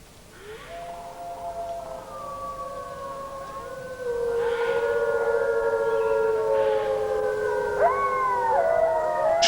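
Several wolves in a Transylvanian mountain forest howl together, long overlapping wavering tones rising and falling in a chorus that swells louder partway through, with no voices.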